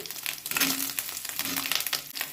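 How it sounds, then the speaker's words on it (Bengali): Chopped green chillies sizzle and crackle in hot oil in a pan for paneer chilli, a steady close frying hiss with bursts of spitting and light stirring. "এটা একটু ভেজে নেব এরপরে দিয়ে দেবো ক্যাপসিকাম কুচি"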